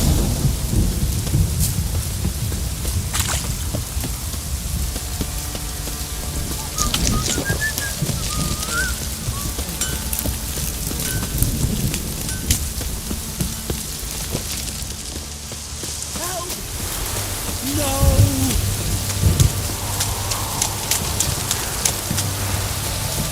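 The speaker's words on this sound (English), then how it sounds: "This downpour's a bastard, it is." Heavy rain pours steadily in the video game The Witcher 3: Wild Hunt, with a dense hiss, low thunder rumbling beneath it, and a few bird calls breaking through.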